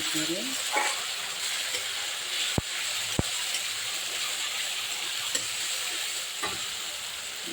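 Ground spice paste fries in hot oil for a goat meat curry, giving a continuous, dense sizzle close by, broken by a few sharp clicks and scrapes of stirring.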